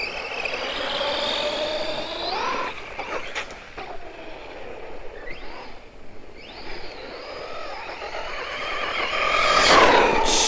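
Arrma Kraton 4S V2 RC car held in a long wheelie across a parking lot, its electric motor whining steadily near and loud, pitch sweeping up and down with throttle, rising sharply at the end.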